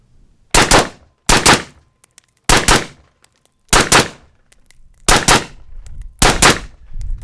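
A suppressed Steyr AUG A3 rifle fires six loud, close shots at a steady pace, each a sharp muffled crack with a short tail, separated by brief gaps.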